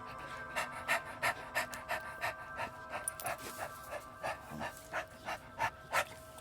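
A dog pants in quick, steady rhythmic breaths close by, each huff sharp and evenly spaced, with a faint whimpering edge and a quiet room behind it.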